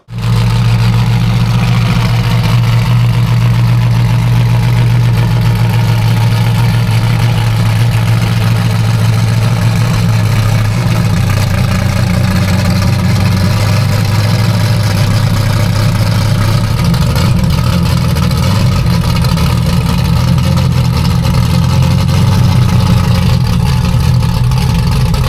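A hot rod at a New Zealand car show idles with a loud, deep, continuous rumble that rises slightly in places, heard close and alone for about 25 seconds.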